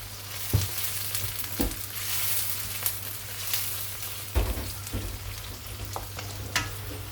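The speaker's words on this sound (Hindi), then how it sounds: "अब हमने ऑनियन को जो है वो तकरीबन लाइट गोल्डन ब्राउन करना है।" Onions fry in a pan on the way to light golden brown for chicken masala handi, a steady sizzling hiss broken by occasional spoon scrapes and stirring clanks, close and without speech.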